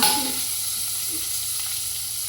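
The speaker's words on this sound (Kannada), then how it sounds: "ಪಟ ಪಟ ಪಟ ಫ್ರೈ ಮಾಡೋದಾ?" Broccoli fries in a hot pan with a loud, continuous hissing sizzle that stays even for a couple of seconds and ends with a brief stir.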